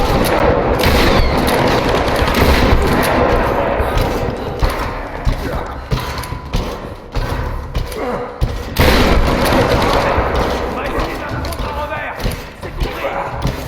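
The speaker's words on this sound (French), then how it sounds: "Il est où celui qui tire?" Gunfire in the Tomb Raider video game, dense bursts of shots and booms blending into a loud, continuous combat din with little pause.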